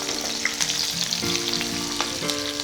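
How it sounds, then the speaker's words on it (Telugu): Drumsticks (moringa pods) for pickle being stirred and fried in a pan, a steady close sizzle with light scraping of the spoon throughout, no voices. "ఇలా ఒక 5 మినిట్స్ మునక్కాడల్ని కొంచెం అటు ఇటు కదుపుతూ ఫ్రై చేసుకోవాలి."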